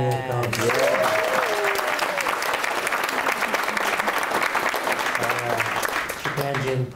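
An audience breaks into steady, sustained clapping for several seconds, with brief talking at the start and end.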